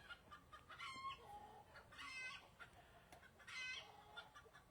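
A hen clucks and squawks in agitated bursts, several loud outcries separated by quieter clucking, fairly close with other fowl, including turkeys, in the background.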